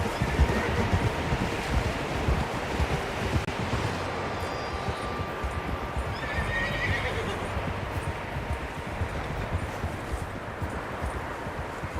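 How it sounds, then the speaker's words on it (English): Several horses whinny and neigh in the video game Red Dead Redemption 2 over a steady wash of wind and surf-like noise, with hooves clip-clopping faintly throughout. "Horses, quite a few of them."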